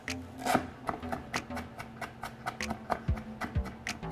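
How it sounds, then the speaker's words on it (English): A knife slices through fresh ginger on a cutting board in a home kitchen, producing a series of crisp, irregular taps and cuts up close, with a few heavier chops. "I'm gonna cut off about an inch or so of ginger and then we'll get that all sliced up."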